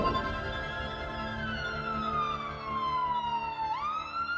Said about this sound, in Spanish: Cuando una ambulancia se acerca a nosotros, la longitud de onda de la sirena se comprime.